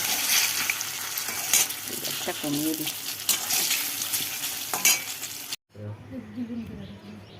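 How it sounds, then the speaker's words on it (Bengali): Eggplant slices frying in a home kitchen pan give a steady sizzle with occasional stirring and utensil clinks, someone talking over it, and the sound briefly cuts out near the end before resuming more quietly. "যে বেগুন ভাজা করছি।"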